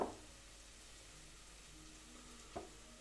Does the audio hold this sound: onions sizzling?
yes